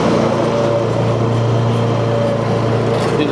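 A lawn mower engine runs steadily and loud throughout a mowing pass, with a constant low drone and harmonic hum under outdoor noise.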